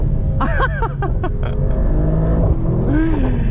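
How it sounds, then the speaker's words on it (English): A Mercedes-AMG GT sports car engine rumbles loudly and continuously, with quick rising and falling revs through downshifts, then a final throaty pitch rise from the exhaust. "the exhaust note is just as intoxicating as it gets. Every downshift just makes you smile."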